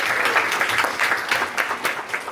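Applause from a classroom audience for a student's presentation about the American Revolution, a short burst of many hands clapping steadily and fairly close, with no talking over it.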